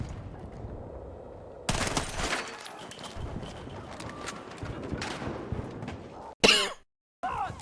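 Heavy gunfire and explosive blasts in the Battlefield 6 video game, a dense barrage of loud shots and impacts that erupts suddenly, rumbles on, then ends with a sharp blast.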